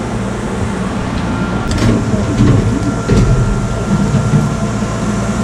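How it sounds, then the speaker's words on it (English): Small diesel tourist train running, a steady loud mechanical rumble and rattle heard from on board, with a few clanks and squeaks over the continuous drone. "You can see the little diesel mouse train"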